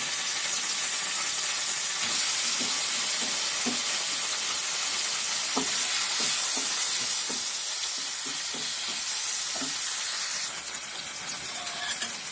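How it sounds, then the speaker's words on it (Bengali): Paneer pieces fry in hot oil tinted with turmeric, giving a steady loud sizzle and hiss throughout with scattered popping crackles, close up and without talk. "পনিরটা ভাজা হয়ে গেছে"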